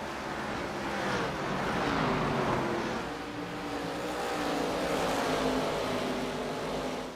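Race car engine droning steadily at Bristol Motor Speedway in a racing video game, a continuous mid-level roar with a sustained engine tone and no pauses.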